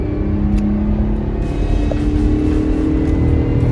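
A 1999 Plymouth Grand Voyager minivan's engine drones steadily at close range with a deep rumble, road noise building as it accelerates at speed on a highway.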